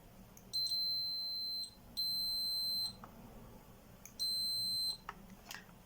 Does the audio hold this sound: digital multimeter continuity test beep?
yes